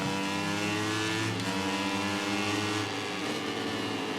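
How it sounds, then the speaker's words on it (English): A Ducati race motorcycle engine revs hard in the MotoGP 19 video game, a loud, continuous high-pitched whine rising and falling with gear changes, with no talk. "And look at this Ducati go."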